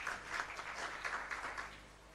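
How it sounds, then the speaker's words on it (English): Applause from a conference audience at an investment-week event, dense even clapping running steadily throughout, moderately loud and fairly close, with no talk over it. "Shall we clap for that, ladies and gentlemen?"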